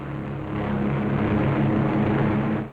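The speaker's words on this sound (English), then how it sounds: "As the fighters and bombers swing victoriously away from Marcus Island" WWII fighter and bomber aircraft fly overhead with a dense, continuous propeller-engine drone, loud and steady throughout with no voices.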